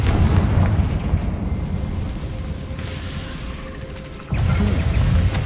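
A Confringo fire spell bursts in Hogwarts Legacy, a loud, rumbling explosive blast with a sustained roar that eases off before a second heavy burst near the end, with no talking.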